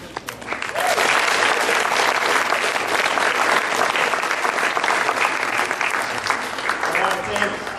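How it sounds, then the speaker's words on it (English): Audience at a cross-country team awards ceremony breaks into sustained, dense clapping that swells quickly and carries on loudly for several seconds, with voices mixed in. "let's give a good round of applause to the parents"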